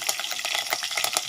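Mustard seeds, cumin and curry leaves crackle and spit in hot oil for a tempering, with onion and garlic added, a loud, close, dense sizzle of rapid pops.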